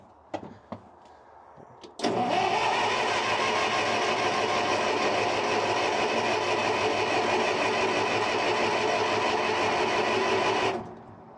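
After a few faint clicks, a 1970s International bulldozer's engine bursts into life and runs loud and steady for about nine seconds at close range, then cuts off abruptly.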